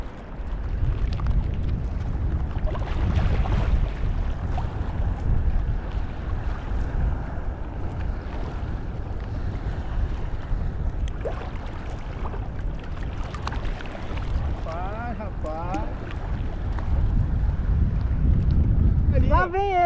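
East wind buffets a fishing boat at sea, a steady low roar of gusts against the microphone mixed with water and hull noise, with people talking intermittently and a few whistle-like tones toward the end.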